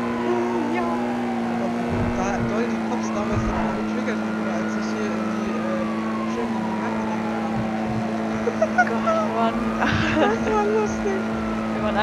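Engine of a car in a Unity-Life roleplay video game, a steady drone that holds under game music throughout, with a rising and falling pitch sweep in the middle and a louder burst near the end.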